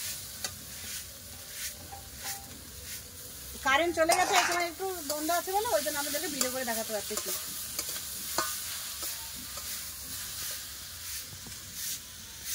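Water spinach (kalmi greens) stir-frying in a pan with fried onion and crushed garlic, a constant sizzle under scraping stirs; someone talks over the middle section, and the pan keeps crackling on its own afterward.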